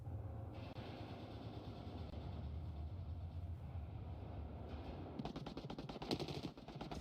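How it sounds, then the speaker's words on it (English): Gunfire in a competitive first-person shooter match, with a rapid volley of sharp cracks bursting out after a stretch of low rumbling ambience, then tapering off. "Shots come out."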